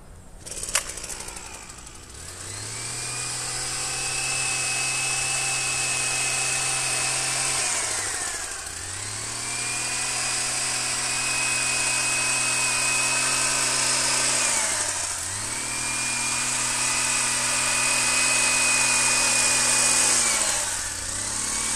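A hedge trimmer runs loud and close while cutting a hedge, its motor droning steadily and dipping briefly in pitch every few seconds as it bites into the growth.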